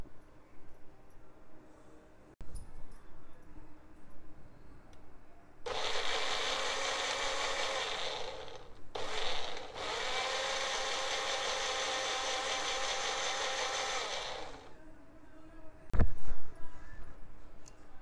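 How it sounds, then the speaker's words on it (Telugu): A mixer grinder whirs loudly blending thick curd for spiced buttermilk for about nine seconds with a brief pause midway, then stops; a sharp knock follows near the end. "ఇవన్నీ వేసుకొని ఫస్ట్ ఒకసారి మనం మిక్సీ చేసుకోవాలి"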